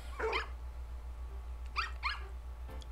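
Small dogs in the video game Nintendogs + Cats bark in short yappy bursts, one early and then a couple more close together, over a steady low electronic hum.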